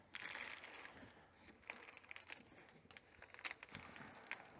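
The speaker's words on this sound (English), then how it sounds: "Now I'm going to seal this tank up by just laying a Ziploc bag over this thing" A Ziploc plastic bag crinkles as it is laid over the fuel tank opening of a Polaris 500 Ranger side-by-side and pressed down under a ring, giving faint, close, irregular rustles and crackles with a sharper crunch near the end.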